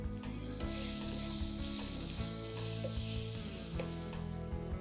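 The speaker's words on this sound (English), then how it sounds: "cover and let the potatoes fry for a minute on low heat" Diced potatoes sautéing with curry leaves, turmeric and salt in a pan, a steady close sizzle and fry hiss running throughout with faint stirring scrapes.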